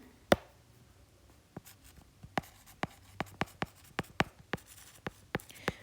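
Chalk or marker strikes a classroom board in quick, crisp taps and short strokes, an irregular rhythm of close, sharp clicks over quiet room tone.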